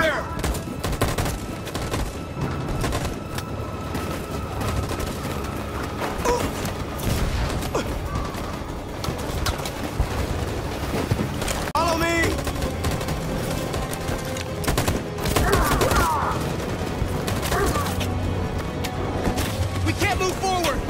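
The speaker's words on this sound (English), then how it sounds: "That machine gun is taking down everything that moves!" Machine gun fire in a game battle: dense, rapid bursts of gunshots with mechanical clanks and occasional booms, continuing throughout, with people talking over the shooting.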